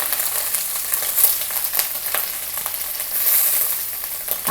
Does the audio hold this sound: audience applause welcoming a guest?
no